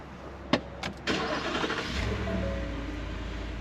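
A few clicks of a starter, then the 5-liter V8 engine of a 2021 Ford F150 pickup truck catches and settles into a deep, steady idle close by.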